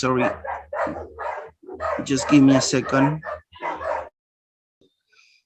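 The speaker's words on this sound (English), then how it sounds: "The dogs were barking." Dogs bark nearby during an online English lesson, their yips and barks mixed in with a person talking, then everything drops to near silence.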